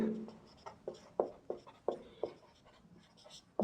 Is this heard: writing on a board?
yes